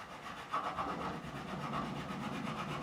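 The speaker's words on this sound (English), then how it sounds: "we are just going to re-crown using a crowning file" A crowning file rubs steadily along the frets of a vintage John Hornby Skewes Explorer-style guitar, a continuous close scraping rasp with faint repeated strokes and no voices.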